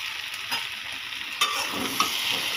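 Okra sputtering and crackling in a hot pan, with a few sharp scrapes of a stirring spoon cutting through a steady, close, fairly loud sizzle.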